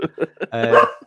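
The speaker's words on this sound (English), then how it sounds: "My dog's fucking barking like annoying." A dog gives a quick run of three or four sharp barks followed by a longer whining yelp, close and loud, with no talking over it.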